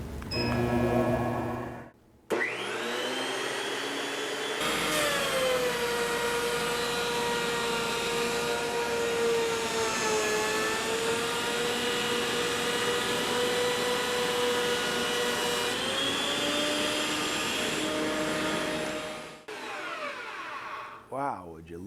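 A FindBuyTool helical head planer runs quarter sawn white oak through its cutterhead with dust collection attached, a loud steady whine and roar sustained for about fifteen seconds between brief start-up and spin-down sounds.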